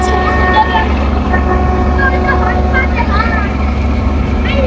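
Passenger launch ferry departing at Sadarghat, Dhaka: a steady, loud low engine drone with constant rumble throughout, with people talking nearby over the noise.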